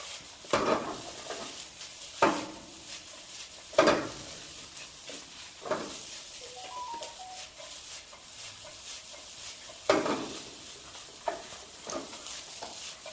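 Egg and rice are stir-fried in a pan for shrimp fried rice, with soft sizzling under intermittent scraping and stirring clatters of a utensil against the pan at irregular intervals.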